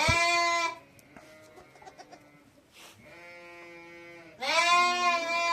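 Young twin goat kids bleating while suckling in a snowy farm setting, loud close wavering cries at the start and end, with quieter bleats and rustling in between.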